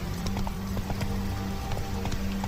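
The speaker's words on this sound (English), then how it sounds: "Run, Roach." A horse galloping in the video game The Witcher 3, rapid rhythmic clip-clopping hoofbeats over a steady low rumble, continuous and close throughout.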